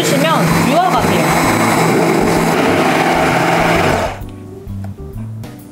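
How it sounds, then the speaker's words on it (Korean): A stick blender whirs steadily while mixing caramel cream for a chiffon cake filling, loud and continuous for about four seconds before cutting off, leaving faint kitchen clatter. "골고루 섞일 수 있도록 바믹서로 골고루 섞어줄게요"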